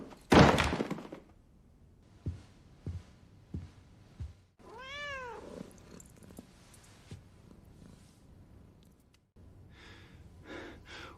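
A stray cat found in a garden gives a drawn-out, rising and falling meow in the middle of a quiet indoor scene, preceded by a sharp thump and a few soft knocks, with faint breathy sounds afterward.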